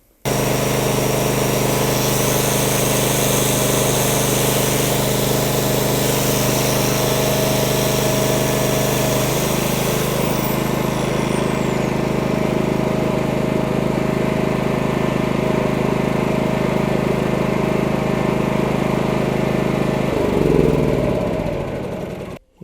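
A Champion 7.0 kW dual-fuel generator (CPG7500E2-DF-EU) runs loud and close with a steady engine drone. Its pitch shifts noticeably twice as the load changes, and the engine cuts off at the very end.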